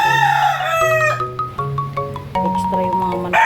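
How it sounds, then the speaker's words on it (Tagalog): Roosters crow loudly and close by, several long drawn-out calls overlapping one after another, with a few shorter clucks mixed in. "Extra yung mga manok natin."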